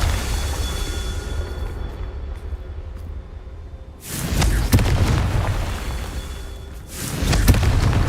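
Two booming explosions from a Confringo blast spell in a video game, the first a heavy burst at mid-clip, the second about three seconds later, both loud and close over low rumbling game ambience.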